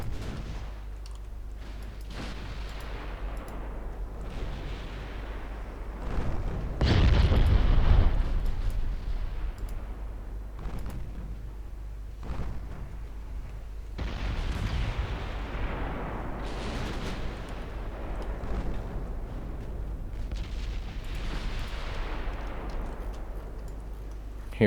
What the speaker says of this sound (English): Who else but my old pre-dreadnought scoring a main gun hit on that enemy DD?